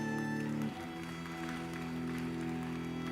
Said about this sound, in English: Please give a round of applause for our doctoral graduates.